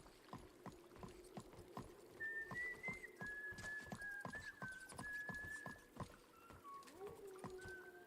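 A horse in the video game Skyrim walks with steady, close clip-clopping hoofbeats while a thin, wavering whistle-like tone drifts above. No voices are present.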